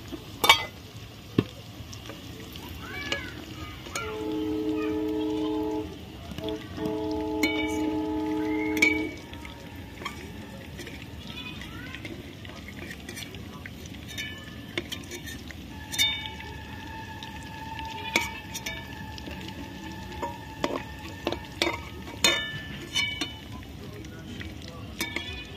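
Chicken pakoras fry in hot oil with a soft, steady sizzle and occasional stirring clinks, while intermittent tonal hums and brief clatters rise and fade around the cooking.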